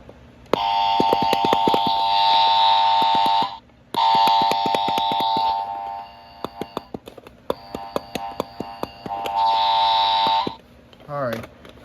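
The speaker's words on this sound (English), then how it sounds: "I got the wrong answer buzzer." A harsh electronic wrong-answer buzzer button blares in several long sustained bursts with short gaps between, loud and close, ending with a brief chirp.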